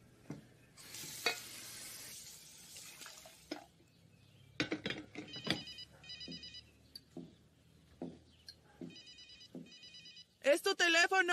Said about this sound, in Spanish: ¡Es tu teléfono!